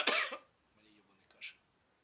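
A man lets out one loud, rough cough up close, followed by a softer throat-clearing rasp and quiet.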